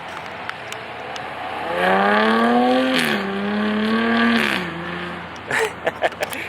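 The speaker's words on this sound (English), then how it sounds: "we're going to get a good little takeoff of the V6" A 2021 Jaguar F-Type with a supercharged 3-liter V6 pulls away hard, its engine note rising steadily over a few seconds under rough outdoor wind noise, then fading with a few sharp pops and crackles at the end.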